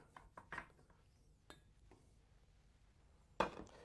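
Small metal baking moulds for one or two people handled on a counter, making a few light clinks and taps early on, then near quiet, then one sharper clatter toward the end.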